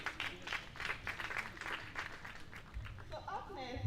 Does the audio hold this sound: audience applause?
yes